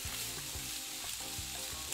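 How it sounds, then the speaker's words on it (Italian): Churro dough sizzling and bubbling in hot frying oil, a steady dense crackle with faint periodic stirring bumps, close and continuous with no voices. "Friggiamo per 3-5 minuti mescolandoli spesso fino a quando sono super dorati e golosissimi."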